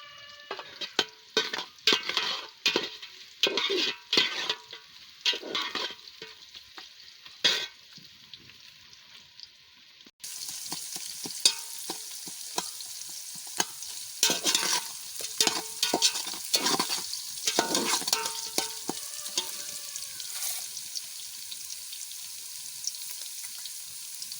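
Chopped onions sizzle and crackle in a pan with salt for biryani, with repeated scraping stirs; the frying grows louder and steadier partway through.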